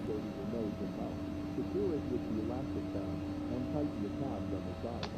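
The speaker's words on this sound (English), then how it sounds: "all engines started" The jet engines of an Embraer E145 run in X-Plane 11 as a steady, even whine and roar, with a voice talking over the drone throughout.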